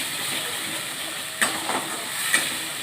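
A little rice bran oil added to a hot pan with ground poppy seed and dried chilli paste, producing a soft, steady hiss with a couple of brief louder spits.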